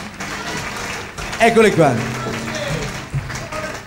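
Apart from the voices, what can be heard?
audience applause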